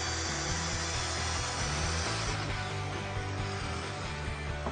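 A Festool TS 55 EQ plunge circular saw makes a bevel cut along a marked line, its motor whining steadily and loudly through the whole stretch with a dense, even buzz of the blade in the wood.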